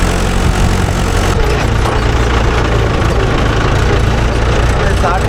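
A Mahindra 575 DI tractor's diesel engine runs steadily up close, a loud, continuous low rumble with no break for the whole stretch and a faint voice mixed into the drone.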